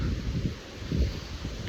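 Gusts of wind on a cloudy, windy day in Saskatchewan rush past in low, uneven surges, buffeting the microphone and rustling softly, with no voices.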